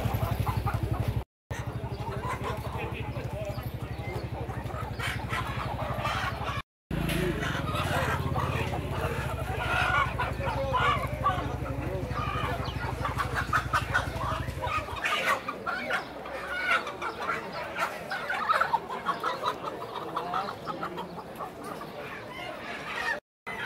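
Chickens cluck and fuss throughout a busy free-range poultry market in João Alfredo, Pernambuco, with a steady low hum and people talking nearby for most of the stretch.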